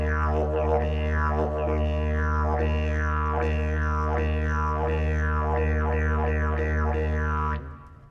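A performer at a university graduation ceremony imitates a big red kangaroo hopping, with a steady droning tone broken into about a dozen bouncing, rhythmic pulses. It is loud and close, with no speech, and cuts off at the end.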